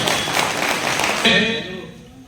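An audience claps loudly together at an evening stage event to welcome a speaker, a dense continuous roar of hands that fades after a sharp swell near the end.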